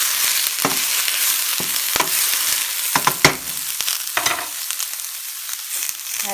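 Stir-frying with leftover herbal cough syrup in a pan gives a continuous close sizzle, with sharp spatula scrapes and clacks against the metal at irregular intervals, clustering toward the middle before the frying settles.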